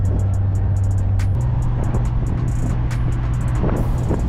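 A car driving on the road, heard from inside as a steady, loud engine and road drone with a faint shift in pitch partway through, wind noise and light high-pitched ticking on top.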